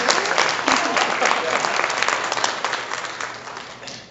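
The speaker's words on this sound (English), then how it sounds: "let's just give her applause for that" An audience at a luncheon applauds, a dense, steady wash of many hands clapping, close and sustained, slowly tapering near the end.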